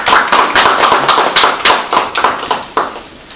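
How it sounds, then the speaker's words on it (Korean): An audience at a local self-government seminar applauds to welcome a lecturer, a loud, close patter of individual claps with distinct sharp hits, a few hands rather than a large crowd, fading at the end. "자, 박수로."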